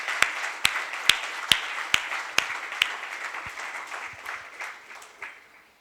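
An audience at a lecture session in Yavatmal claps together, a run of sharp, evenly timed collective claps that loosen into scattered, fading applause.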